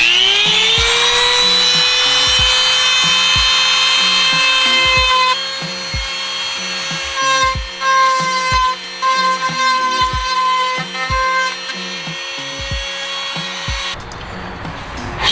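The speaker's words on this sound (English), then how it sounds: "This is the Dremel I have, but it runs into like a little etching kind of extension, and there's a drill bit on the end of it." A Dremel rotary tool fitted with a drill bit cuts into a widebody kit panel on a Dodge Challenger V6 SXT, giving a steady high whine with repeated rhythmic bursts as the bit bites, loud and close with no talking.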